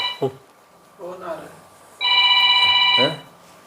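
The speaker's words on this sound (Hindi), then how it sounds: "मेरे फोन पे आ रहा है, फोन आ रहा है" Electronic phone ringtone rings once in a bright, steady burst lasting about a second, heard close, with brief bits of a man's speech before and around it.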